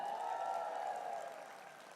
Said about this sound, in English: let's get a loud cheer from you all